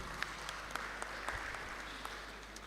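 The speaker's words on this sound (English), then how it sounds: "A round of applause for Aksetushe." Quiet applause at a Nigerian Institute of Architects Abuja chapter anniversary general meeting, a soft, distant patter of scattered claps with a few sharper hits standing out over a low background hum.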